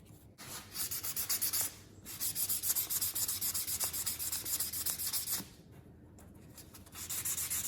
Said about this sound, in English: The next step's gonna be some fine sanding.